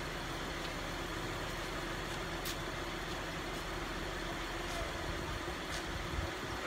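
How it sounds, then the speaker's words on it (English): An electric fuel pump runs on a 1969 Mercedes 280SE with mechanical fuel injection, giving a steady, close, continuous mechanical hum and whir that holds level without a break. "So let me turn the fuel pump on."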